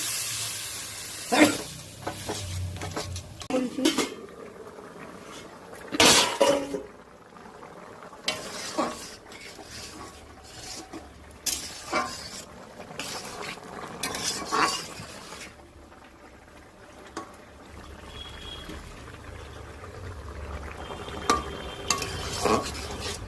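Water is added to potatoes frying in oil, giving a sizzle and hiss under repeated clanks and scrapes of a utensil stirring in the pan, with occasional sharp knocks and quieter stretches.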